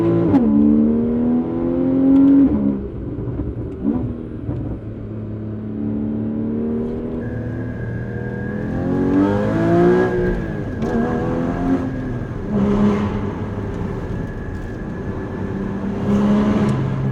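A Porsche 981 sports car engine revs repeatedly, rising and falling through several sharp climbs with a whining mechanical tone, close and loud with no talk over it.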